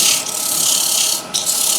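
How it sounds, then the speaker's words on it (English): A wooden sphere spinning on a lathe is rough-sanded, giving a continuous loud, close rasping hiss with a brief dip partway through and no talking. "So again, just rough sanding"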